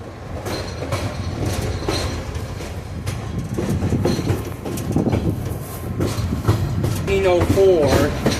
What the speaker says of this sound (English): For the Baldwin Locomotive Works in Richmond, Virginia. And she was one of the very last steam locomotives.